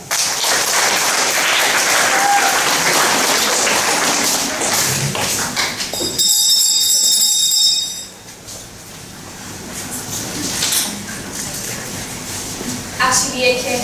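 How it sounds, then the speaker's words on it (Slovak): Loud, sustained applause fills a school hall as pupils arrive to sing carols at a church school's Christmas show in Bardejov, dense clapping, briefly dipping before settling into steadier clapping with voices mixed in. "Privítajme ich potleskom."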